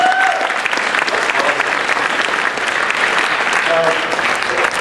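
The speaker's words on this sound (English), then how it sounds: "Give them a round of applause." A room of people applauds for participants who completed leadership development studies, with dense, steady clapping that holds at an even level for the whole stretch.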